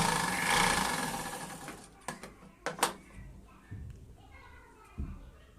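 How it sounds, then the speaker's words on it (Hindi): A sewing machine stitching the seam of a lined suit, with a whirring run of stitching at first, then scattered mechanical clicks and knocks as the fabric is handled, while someone speaks. "अब हमें दूसरी तरफ उसी तरह से सिलाई लगानी है"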